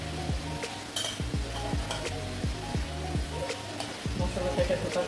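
Hilsa fish pieces dropped into hot oil in a pan, giving a steady close sizzle with scattered crackles and clinks of utensils throughout; no talking.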